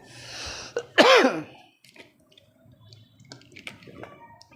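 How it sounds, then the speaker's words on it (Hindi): A man pauses to drink water, giving a throat-clearing gulp and a sharp swallow near the start, followed by faint wet sips and small mouth sounds in a quiet room. "एक मिनट पानी पीता हूं मैं"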